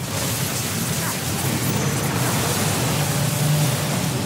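Lightning Rod ability strikes in Final Fantasy XVI, a sustained crackling, rumbling roar like a thunderstorm, loud and continuous throughout with no speech over it.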